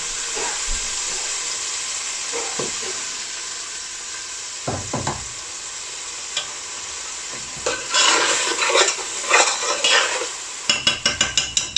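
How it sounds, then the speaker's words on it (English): Tomato paste sizzles in a hot family cooking pot for chicken dhansak, a steady frying hiss broken by occasional scrapes and knocks, building to brisk metallic stirring strokes near the end. "I'm gonna add 1 tablespoon of tomato paste."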